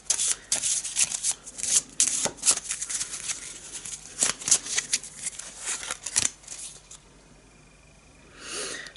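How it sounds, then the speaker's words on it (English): A deck of cards is shuffled at a tabletop board game session, with quick crisp riffling bursts and snaps in an irregular rhythm, close up, followed by a quiet pause and a faint breathy sound. "I just shuffle it"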